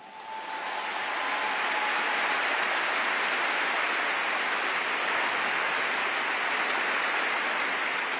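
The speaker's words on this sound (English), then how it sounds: "y'all give them a hand clap." Audience applause builds within the first second into sustained, dense hand clapping from a large crowd at a formal Air Force ceremony, steady and continuous without talk.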